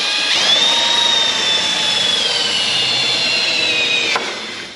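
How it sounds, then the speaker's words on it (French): A power tool whines as it enlarges screw holes in a carbon diffuser for an Audi R8 V10. The high, steady drilling tone holds for about four seconds and then cuts off, with no voices. "On agrandit les trous pour les vis."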